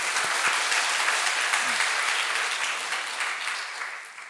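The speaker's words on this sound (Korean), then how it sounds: "주님께 영광의 박수 올려드립시다" A church congregation at a Korean worship service fills the sanctuary with sustained applause, broad and even before slowly tapering, with no speaking over it.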